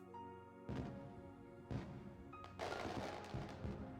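Video-game fireworks launching in separate bursts, four sharp booming reports with crackling tails, spaced about a second apart against a quiet, faintly humming background.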